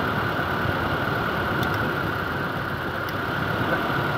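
A Toyota Innova petrol engine idles roughly with one ignition coil pulled, a steady close mechanical rumble with faint ticks and a slight uneven stumble, nearly stalling.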